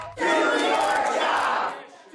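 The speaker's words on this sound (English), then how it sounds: "rowdy crowds demanding answers from Congressman Gaetz" Furious constituents shout together at a congressional town hall, a loud burst of massed angry yelling that swells quickly, holds for about a second and a half, then fades.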